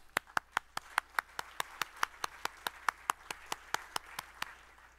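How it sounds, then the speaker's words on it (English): Sparse, evenly spaced clapping at an aerospace conference forum, roughly four crisp claps per second from one or a few people, continuing for about five seconds in a quiet hall. "Let's give them a round of applause as well."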